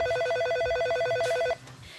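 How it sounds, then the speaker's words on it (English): A telephone rings in a sports store with a steady, rapidly trilling electronic ring that runs for about a second and a half and then stops, leaving low background hum. "the phone has been ringing constantly with inquiries about Jets items"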